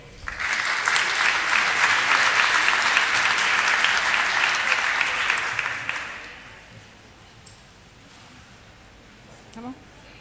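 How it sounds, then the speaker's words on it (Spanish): Audience members at a panel on transparency law applaud the invited media guests. The loud, dense clapping lasts about six seconds, then drops away to quiet room noise with a brief voice near the end. "Un aplauso, por favor."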